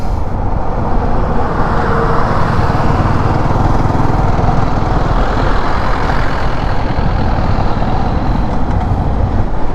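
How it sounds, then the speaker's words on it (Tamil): Fully loaded trucks labour up the Thoppur ghat mountain pass in heavy traffic, a loud, unbroken roar of engines and road noise that stays constant throughout. "லாரி, அதுவும் ஃபுல் லோடில் இருக்கிற லாரிலாம் வந்து ரொம்ப கஷ்டப்பட்டு தாங்க மேலே ஏறும்"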